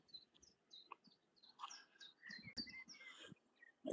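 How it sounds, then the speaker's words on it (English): Birds chirp along a riverbank in spring, a string of light, thin calls at modest distance over quiet background noise. "You hear the birds chirping nicely?"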